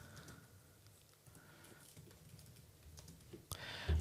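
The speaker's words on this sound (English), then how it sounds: "Just type in your list," Light typing on a computer keyboard, soft scattered key clicks at close range in a quiet room, ending with a few louder taps.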